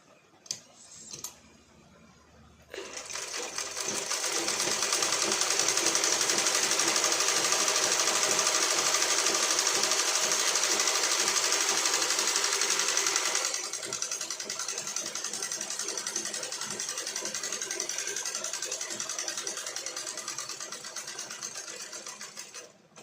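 Sewing machine stitching a lining onto fabric, starting after a few quiet knocks and then running as a loud, steady, close mechanical whir that eases slightly in the second half, no voices.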